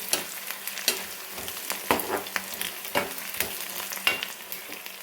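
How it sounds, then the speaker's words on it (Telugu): Onions fry in a pan for an onion chutney, a continuous oily sizzle punctuated by regular scraping stirs of a ladle, close and moderately loud with no voices. "దాదాపు ఫిఫ్టీ పర్సెంట్ వరకు ఫ్రై అయ్యాయి"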